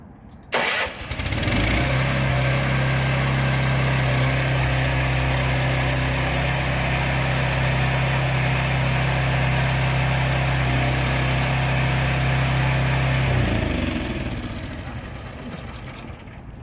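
A trailer truck's engine rumbles steadily at idle while a shipping container is loaded onto it, a loud continuous drone with a strong low hum that starts abruptly and fades slightly near the end.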